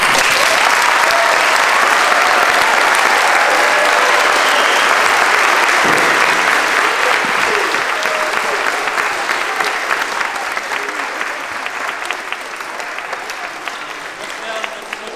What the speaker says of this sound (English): can we just please give them one more round of applause?